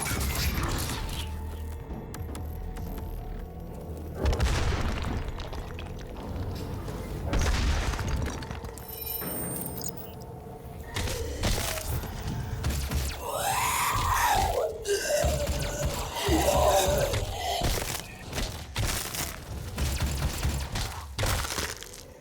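Chaotic DOOM (2016) combat rages with heavy gunfire booms, crashing impacts and shrieking demon cries layered densely together, loud and continuous throughout.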